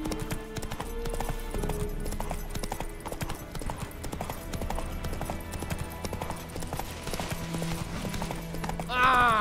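Roach's hooves in The Witcher 3 beat out a steady clip-clop under game music and a voice, and a whinny follows at the end.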